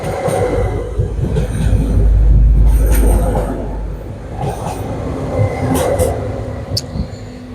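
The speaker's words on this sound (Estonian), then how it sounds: "me näeme ronge ühelt poolt ja teiselt poolt" A train passes close by on the Tallinn Nõmme–Kivimäe line, a loud rumbling roar with wheel clatter and squeals that swells in the middle and eases off, leaving scattered rattles toward the end.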